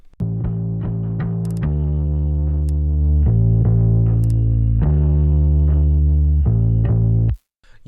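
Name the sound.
distortion effect on soloed bass track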